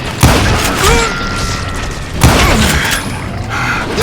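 Heavy gunfire booms in a Call of Juarez shootout, two loud blasts about two seconds apart with rumbling, mechanical clatter between them, up close and alone without talk.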